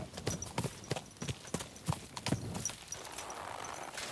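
Horse hooves clip-clopping in Kingdom Come: Deliverance II, a steady run of close, distinct hoof strikes on the ground at an even walking rhythm, fading into a softer background wash near the end.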